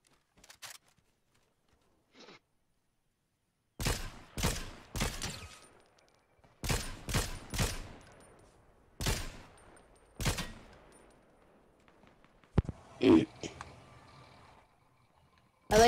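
A string of sharp gunshots rings out in the battle royale game Fortnite: several separate loud cracks in uneven bursts, with quiet gaps between them and a few fainter, distant shots.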